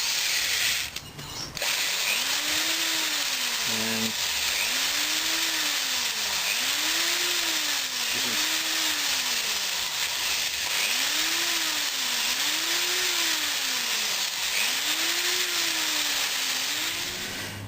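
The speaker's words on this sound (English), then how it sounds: "I've employed my electric drill with a small screwdriver bit on it" An electric drill fitted with a small screwdriver bit runs while making point lever fittings, its whine rising and falling in repeated bursts of several seconds each, close and steady throughout.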